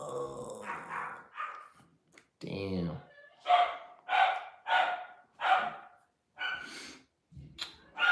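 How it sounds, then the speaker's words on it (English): A dog barks in a short run of about five sharp, evenly spaced barks at moderate distance, preceded and followed by a person talking nearby. "My dog's barking"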